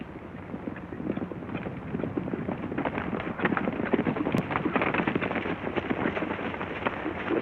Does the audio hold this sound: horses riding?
yes